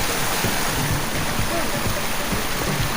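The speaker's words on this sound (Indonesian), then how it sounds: "Ini saya menemukan mata air ya. Mata air yang berasal dari gunung asli." Mountain spring water rushing through an underground cave passage, a loud, steady broadband wash that stays constant and close throughout.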